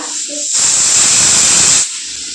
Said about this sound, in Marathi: तर कुकरच्या शिट्ट्या व्हायला लागले त्या